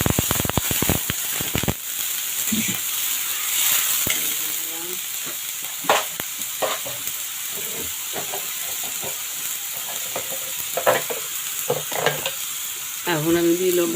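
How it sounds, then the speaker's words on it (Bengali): Water goes into a pan of fried onions, ginger paste and spices for a beef brain fry, setting off a strong, steady sizzle and hiss with intermittent clinks and scrapes of stirring throughout. "এখন আমি পরিমাণ মতো পানি দিয়ে দিব।"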